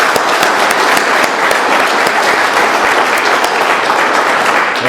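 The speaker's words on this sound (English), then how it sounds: "let's give one more round of applause for Chad" Room full of people at an Alcoholics Anonymous meeting clapping for the speaker, loud, dense and continuous applause with a few sharper individual claps cutting through, held steady for the whole stretch.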